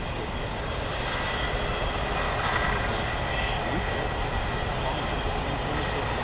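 A Boeing 787-9 Dreamliner flies an airshow demonstration at Farnborough, its engines giving a steady, broad roar that holds at constant loudness throughout, with a commentator talking over it.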